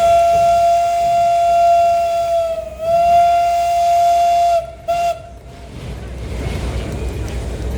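Historic steam locomotive 310, built in Budapest in 1896 with three coupled axles, sounds a long steady chime whistle that dips briefly, then stops abruptly, leaving rumbling steam and crowd noise at a railway museum turntable.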